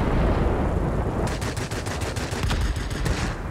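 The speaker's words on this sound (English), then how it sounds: "If it can be negotiated out of my 20mm cannons today." A 20mm aircraft cannon fires in World of Warplanes, a loud rapid burst of sharp evenly spaced shots beginning partway through and continuing to the end over a constant engine roar.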